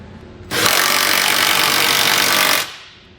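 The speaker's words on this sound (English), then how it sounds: "tighten all of our hardware down" Power socket driver running steadily for about two seconds as trailer hitch hardware is tightened on a 2016 Kia Optima with a 3/4 inch socket, a loud continuous whirring buzz that starts and stops abruptly.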